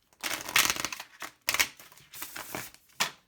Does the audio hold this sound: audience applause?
no